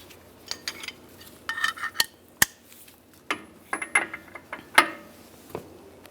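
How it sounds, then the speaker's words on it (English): A pry bar works against the wheel hub nut of a 1998-2010 Volkswagen Beetle, giving scattered metallic clinks, ratcheting clicks and knocks at close range, irregular and fairly quiet. "we're going to loosen the nut half a turn"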